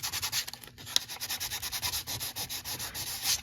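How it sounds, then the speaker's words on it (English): Lightly sanding the edge of a hard plastic repair by hand, quick close rhythmic scratchy strokes repeating evenly with no speech. "Now you just lightly sand off the edge"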